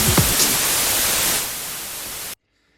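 Synthesized white noise in a music production session sounds as a dense, steady hiss for a little over two seconds, softening slightly before it cuts off abruptly into silence.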